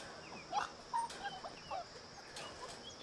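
Faint, high whimpers and soft whines from six-week-old livestock guardian dog puppies come in short bursts, quiet against a light background hiss.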